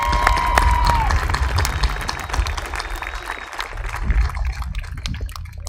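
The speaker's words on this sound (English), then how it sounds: "Give yourselves a round of applause." Graduates applauding at a high school commencement, broad sustained clapping from a large crowd in a big venue with a low rumble underneath, gradually thinning toward the end.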